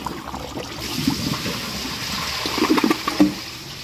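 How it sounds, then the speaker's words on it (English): A Glacier Bay toilet holding about half a tank, with a split bowl and a weak flush, gurgles and rushes water at moderate loudness, with swirling bursts toward the end. "Let's give this another flush."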